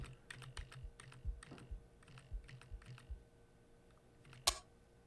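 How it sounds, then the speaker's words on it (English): Keys on a computer keyboard are pressed in quick, irregular taps, quiet and close, ending with one sharper click. "I'm going to use M again on my keyboard"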